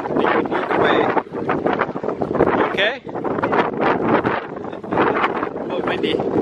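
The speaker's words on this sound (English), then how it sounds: "Oh, windy." Strong wind buffets a microphone beside the sea near the El Arco rock arch at Cabo San Lucas, gusting loudly with brief dips, with voices talking under it.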